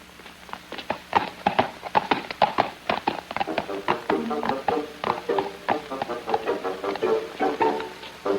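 Horse hooves clip-clopping at a steady walking pace, a continuous run of close, hollow knocks with faint voices in the background.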